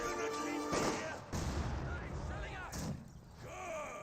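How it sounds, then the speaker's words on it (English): Mortar shells slam into an MG42 machine-gun position in Company of Heroes 2, a run of booming impacts and gunfire crackle layered over dense battle noise, with a voice talking over the action. "I got some mortar hits there on the MG"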